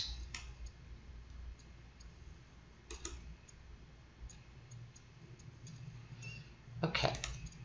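A few sparse computer mouse clicks ring out quietly over a low background hum, including a cluster of clicks near the end, while someone edits overlays in OpenOffice.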